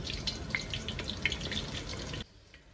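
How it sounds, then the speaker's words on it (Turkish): Steady, dense sizzling and crackling of eggplant and zucchini frying in hot oil, close and continuous, cutting off abruptly near the end. "patlıcan ve kabak kızarırken"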